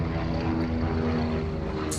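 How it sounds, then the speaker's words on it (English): A helicopter flying overhead makes a continuous droning rotor and engine hum, steady in level and moderately loud, with no speech. "Just hang on until that helicopter goes."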